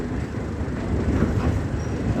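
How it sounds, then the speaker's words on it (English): Freight train hauling steel coils rolls past on a bush rail line, a steady low rumble and rattle of wagons holding an even, moderately loud level throughout, with no voices. "So we've got the steel coils and the freight on the end."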